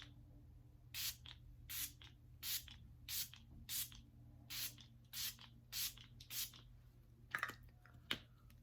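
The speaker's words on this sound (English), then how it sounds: "drenching of some setting spray." Makeup setting spray misted in a quick series of about ten short, crisp pumps at a steady rhythm, close and clear over a faint hum, ending with two sharper clicks.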